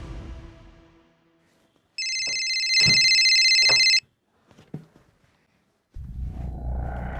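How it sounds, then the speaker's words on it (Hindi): A phone ringtone sounds loudly for about two seconds, then cuts off, followed by brief quiet clicks and a rush of background noise. "उठाओ ना फोन आंचल"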